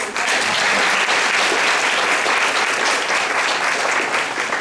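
A community panel audience welcomes state senator Cathy Osten with loud, sustained applause, dense clapping that holds steady for nearly five seconds.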